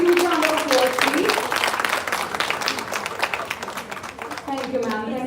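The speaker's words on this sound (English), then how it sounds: "Everybody, a huge round of applause" Audience applause at a live event, a steady wash of clapping filling the whole stretch, with voices mixed in and cheering-like tones rising near the end.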